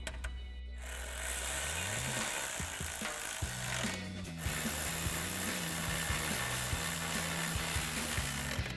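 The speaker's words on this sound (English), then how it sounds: "we'll go ahead and tighten those down with our 10mm socket." Ratchet with a 10mm socket tightening headlight bolts on a 2009-2018 RAM 1500, rapid close clicking in repeated bursts with brief pauses between strokes, loud and alone without speech.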